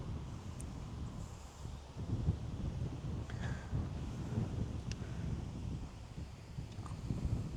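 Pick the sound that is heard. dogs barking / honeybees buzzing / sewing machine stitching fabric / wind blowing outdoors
wind blowing outdoors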